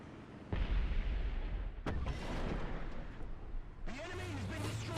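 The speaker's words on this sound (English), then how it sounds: "He got slowed by the bomb." A bomb explodes in the War Thunder tank battle game, striking a KPZ-70 tank: a sudden heavy boom followed by rumbling combat noise and a further burst, loud and close, with no voices.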